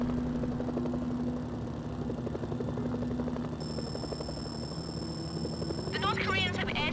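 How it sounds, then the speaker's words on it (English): Helicopter rotors thrum steadily under loud game combat noise in Mercenaries: Playground of Destruction, a continuous engine drone with a voice speaking over it. "Incoming helicopters. They'll tear through."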